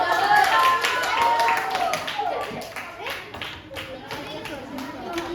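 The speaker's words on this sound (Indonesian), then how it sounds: "tepuk tangan untuk kelompok" A classroom of students claps for a student group, a quick burst of hand claps that thins into scattered individual claps, with voices talking over it.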